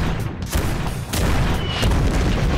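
Artillery fire in the tactical video game Persona 5 Tactica, a rapid run of loud, close booming blasts that keep rolling one after another through the whole stretch with no voices.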